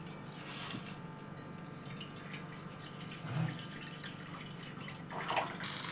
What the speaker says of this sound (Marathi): थोडंच करायचे पाणी घालते